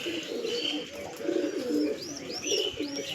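Long pigeons cooing nearby, several soft rolling coos repeating in a steady rhythm alongside light chirps, fairly close and with no speech.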